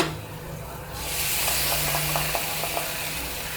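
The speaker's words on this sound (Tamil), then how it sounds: "இப்போ வந்து நம்ம அந்த தக்காளி அரைச்சி வச்ச பேஸ்ட்டை வந்து உள்ளே ஊற்றிடுறேன்" Ground tomato paste poured into hot oil, a bright steady sizzle and hiss that rises suddenly after a second and keeps hissing, with faint stirring taps and a low hum beneath.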